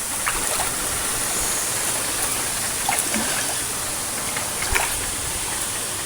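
Clear, cold stream at Dolorosa flowing steadily, a constant bright rushing wash of water with small splashes and trickles standing out, close to the microphone.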